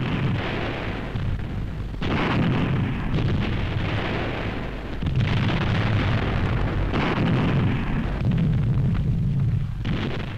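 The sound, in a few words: self-propelled guns firing artillery barrage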